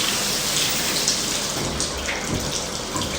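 Water gushes steadily from a tap during a move-in inspection, a loud, unbroken hissing splash that fills the whole stretch with no pauses.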